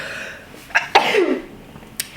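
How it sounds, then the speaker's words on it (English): One person sneezes nearby on an allergy day: a quick inhale, then a sharp explosive burst with a trailing vocal tail, and a brief click afterward. "I gotta sneeze."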